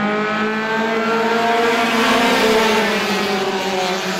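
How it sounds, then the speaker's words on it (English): Race cars roar off together to start a heat race at Star Speedway, a loud, continuous engine drone with rising pitch as the pack accelerates, nearby and steady, with no talk. "Heat race number two is underway."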